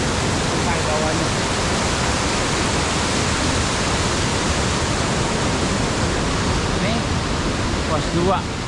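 River rushing beneath a footbridge on a mountain trail at Latimojong, a loud, continuous broadband roar of flowing water close by.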